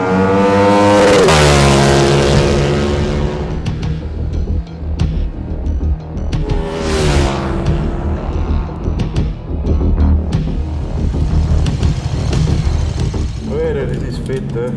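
A KTM 1390 Super Duke R street motorcycle revs hard nearby, its engine note rising and falling through several loud bursts, with a second sweep midway and continuous mechanical noise throughout.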